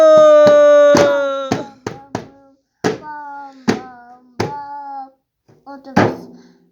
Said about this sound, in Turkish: Bravo, bravo. Alkışlar, bravo.